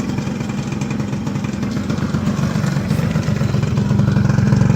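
A small Arctic Cat 90cc engine runs steadily at a loud, close idle with a continuous low throb and a slight rise in level near the end, with no talking over it.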